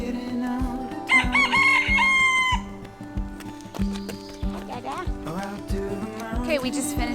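Rooster crowing in the gardens of a Douro Valley estate, mixed with other fowl calls and rhythmic clip-clop like knocking, fairly close and busy, with no clear speech.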